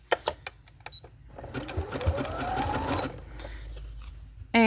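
Domestic sewing machine stitching fabric ruffles in short bursts, a steady close mechanical whir rising and stopping, with a few clicks and handling noises between runs.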